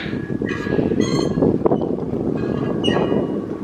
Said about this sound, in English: There comes another train. More cargo.